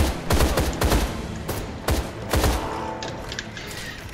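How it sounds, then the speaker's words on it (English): A Tommy gun fires in the video game Deadfall Adventures, several short loud bursts of rapid shots separated by brief pauses, with quieter game sounds between. "Anytime I can get a Tommy gun,"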